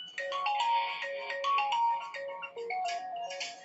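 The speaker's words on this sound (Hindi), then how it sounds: "एक किसी का फोन आ रहा है" A mobile phone rings with an incoming call, a loud melodic electronic ringtone playing a bright run of notes continuously and close by.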